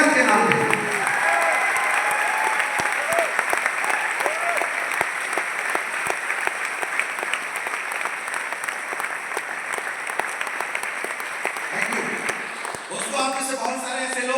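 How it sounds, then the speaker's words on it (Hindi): A crowd at a health awareness talk claps loudly and continuously for over ten seconds, a dense wash of hands, with a voice rising at the start and again near the end. "हो जाए एक जोरदार तालियां आपके सेहत के नाम पे"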